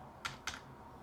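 Two quick, crisp keystrokes on a computer keyboard while entering a window width in Revit, close and clear against a quiet background.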